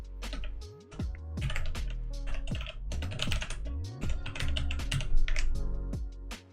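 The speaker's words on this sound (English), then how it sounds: "I'm just going to type out all of those classes." Fingers type class names on a computer keyboard while coding a React and Tailwind CSS weather app, giving a quick, uneven run of close, clear key clicks and thocks throughout, with no talk.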